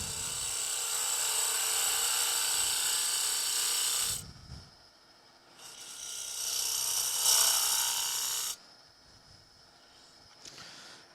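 Lathe hollowing of a lidded wooden box, with a sustained loud whining hiss as the tool cuts. It stops briefly and returns for a second long run before cutting off.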